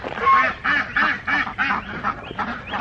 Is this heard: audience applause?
no